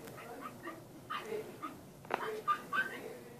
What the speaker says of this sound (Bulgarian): Вижте малкото кученце.